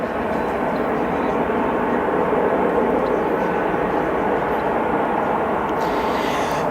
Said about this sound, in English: we have our beautiful China Cargo Airlines 777 going to Shanghai